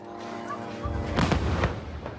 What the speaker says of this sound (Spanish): Las explosiones hacen temblar el centro de Gaza.